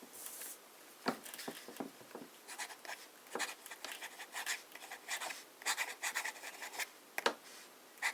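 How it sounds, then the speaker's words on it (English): A fine-nib fountain pen with Montblanc Royal Blue ink writes on cheap copier paper, giving soft, close scratchy strokes in short irregular bursts with brief pauses and a few sharper taps, quiet and without talk. "We need some copier paper to try out this ink on a cheaper paper. Let's start with some fine writing."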